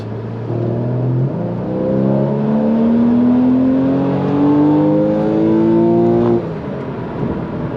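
A Porsche Boxster flat-six engine howls as it accelerates hard, pitch climbing steadily through the gears with one shift, loud and close, no talking.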